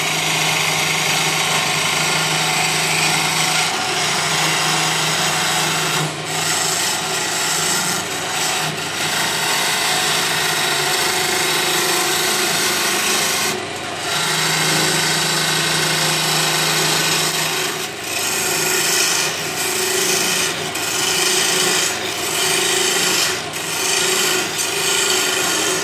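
Red oak walking staff spinning on a wood lathe while a tool scrapes it, giving a continuous rasping, rubbing drone over the motor hum with brief changes in pressure, loud and close, no talk.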